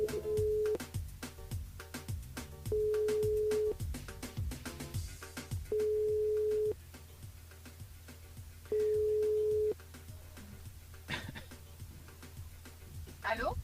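A telephone line on a radio call-in show rings with long, steady beeps repeating at even intervals, each lasting about a second, over soft background music.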